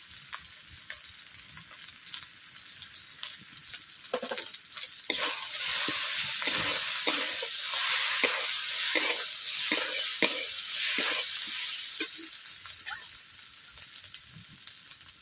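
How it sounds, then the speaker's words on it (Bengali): Ground spice masala with chilli and turmeric powder and a splash of water sizzles in a kadai for fish curry, while a spoon scrapes and stirs in repeated strokes, the frying growing louder midway then easing. "মশলাটা এইভাবে আমি 5 মিনিট কষিয়ে নিচ্ছি"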